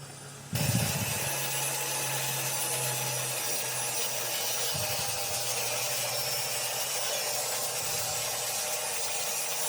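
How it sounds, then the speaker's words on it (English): A power saw cuts strips from squared-off red cedar wood, a steady loud whine that starts abruptly and runs on with slight dips in pitch as the blade works through the board. "We'll just square off our red cedar, and we will cut out some strips."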